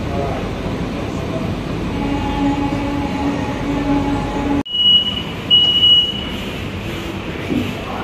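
A new air-conditioned MEMU electric train pulling into Chengalpattu junction: a steady rumble of rolling stock, then an abrupt cut to a brief high whine or tone, with faint talk in the background.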